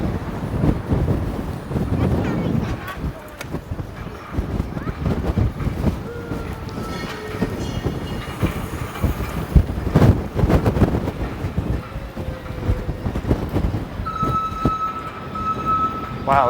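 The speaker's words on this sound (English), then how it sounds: "super windy in a hurry" Strong wind buffets the microphone in continuous rumbling gusts, with faint background noises mixed in throughout.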